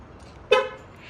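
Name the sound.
2022 VW Golf GTI horn honking on locking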